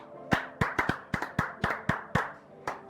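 A church congregation claps to acclaim the scripture reading, about a dozen crisp hand claps in an uneven, lively rhythm over a low murmur of the room.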